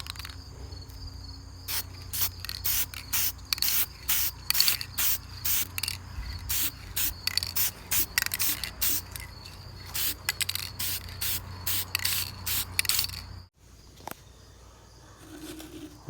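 Cheap brown spray paint being dusted over a Dollar Store skull prop for Halloween, a series of short, close hissing bursts in an uneven rhythm, then a pause and a fainter final spray.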